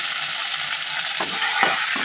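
Ginger paste and soaked, pre-fried moong dal go into hot oil in a pan, giving a constant bright sizzle. A few short scraping knocks from stirring are heard near the end.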